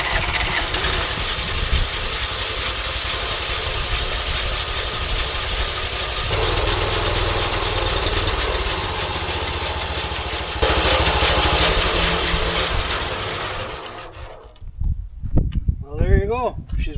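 A homemade band sawmill's engine starts up and runs at a loud, steady drone, its pitch shifting as it settles, before cutting off toward the end where someone speaks.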